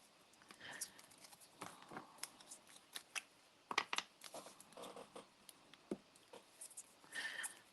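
Scissors are cutting card paper during card making, giving a series of soft, irregular snips and rustles close by at low volume.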